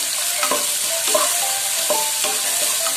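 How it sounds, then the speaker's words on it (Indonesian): Spinach and tomato with chili stir-frying in oyster sauce, a loud, steady sizzle broken by repeated scraping strokes of a spatula in the pan, with no voices. "Ini kita tumis sampai tomatnya ini"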